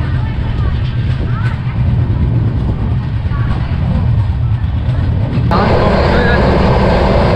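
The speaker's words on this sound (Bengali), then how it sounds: "আর প্রায় 130 ফ্ল্যাট 130-এ চলছে আমাদের ট্রেন এখন।" A Purba Express passenger train cruising at around 130 km/h, heard from inside as a steady, loud rumble and rattle that brightens toward the end, with voices speaking over it.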